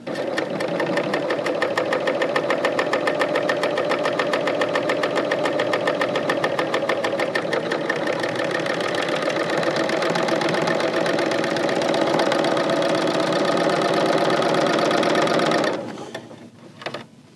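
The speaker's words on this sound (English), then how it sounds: "Now I can go ahead and start stitching." A Bernina L890 serger sewing a chain stitch runs in a fast, steady mechanical whir with a rapid rhythmic clatter, close and loud for about fifteen seconds before stopping, followed by a few faint clicks.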